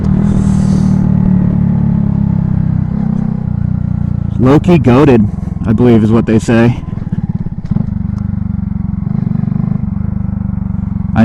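A motorcycle fitted with an $80 MOVO aftermarket exhaust bought on Amazon, heard as a loud, close, steady idle rumble with a few sharp revs in the middle while someone talks over it.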